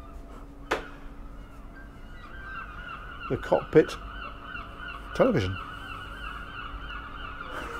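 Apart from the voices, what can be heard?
noisy seagulls in the background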